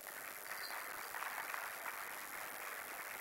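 A conference audience applauds a guest called to the stage during a discussion on the private sector and inclusive growth; the clapping is a steady, faint, distant wash lasting the whole moment.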